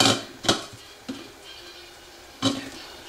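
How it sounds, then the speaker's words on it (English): Soya chunks biryani being stirred in a pan, a few separate clanks and scrapes of a utensil against metal, close and sparse, with quiet gaps between them and no talking. "Stir it well."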